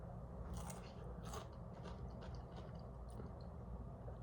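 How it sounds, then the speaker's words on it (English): Crunchy dill pickle spear from home-grown cucumbers bitten and chewed, a few crisp crunches over a quiet, faint background, no talking. "those spears have a really good crunch."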